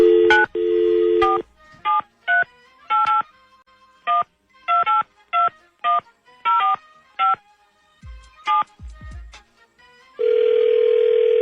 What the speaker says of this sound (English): All right, dialing race.